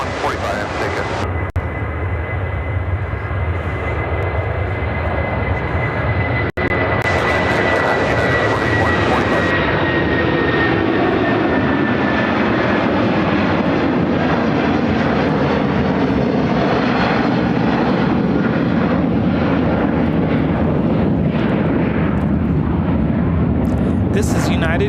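United Airlines Boeing 757-300 jet taking off from O'Hare bound for Denver, a loud sustained engine roar that builds and rumbles steadily throughout, with voices talking over it.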